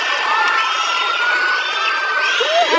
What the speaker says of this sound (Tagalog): And the crowd here at the Bohol Cultural Center, grabe yan tili.